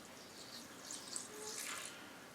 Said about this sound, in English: I'm going to add about 1/3 cup of water to that mixture.